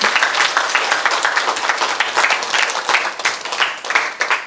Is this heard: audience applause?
yes